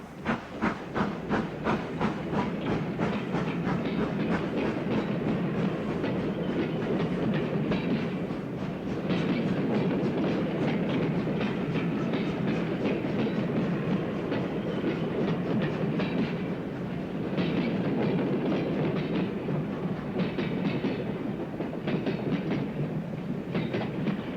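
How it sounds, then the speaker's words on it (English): A Southern Railway U-Class steam locomotive, number 1631, hauls a special train out of Farnborough, with rhythmic chuffing and steam hiss building into steady clickety-clack of wheels, loud and close throughout. "One of the special trains departs from Farnborough, hauled by Southern Railway U-Class 260, number 1631."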